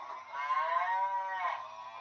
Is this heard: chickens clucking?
no